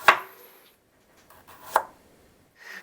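A knife chops food on a cutting board at a kitchen sink, with a few sharp, close strikes spaced apart and quiet pauses between them.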